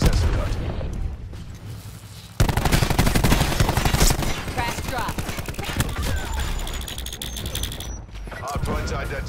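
Sustained rapid automatic gunfire in Black Ops 4 on a Payload match, loud and dense bursts with mechanical clatter that kick in after a quieter opening and run almost continuously, with a short lull near the end.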